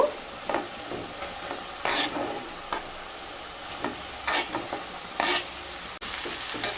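Pre-fried potato and cauliflower are stirred into spice paste in a pan for an egg curry, giving a soft continuous sizzle broken by repeated scraping strokes of the spoon, fairly quiet and close.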